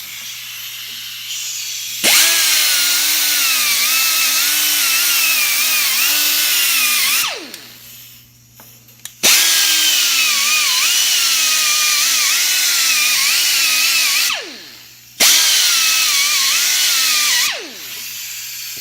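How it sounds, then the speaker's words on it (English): A power tool buffs the metal of a T90 transmission cluster gear smooth, in three long whining bursts with a steady wavering pitch, separated by short pauses and clunks. "I'm just buffing out this metal to make it smooth"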